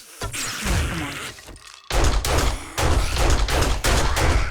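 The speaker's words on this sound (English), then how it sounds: "Didn't notice our gunshots somehow." Rapid gunfire in the survival video game 7 Days to Die, loud bursts of shots in quick succession with a brief pause before more volleys resume.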